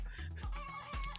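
Chickens in the video game Luck Be a Landlord give a short burst of clucks, a few quick, fairly close calls with no talking over them.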